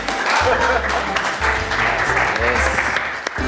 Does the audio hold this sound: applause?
yes